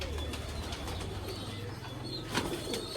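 Pigeons cooing near a loft, low soft coos over a steady background with a few brief chirps and a wing flutter, close and moderately quiet.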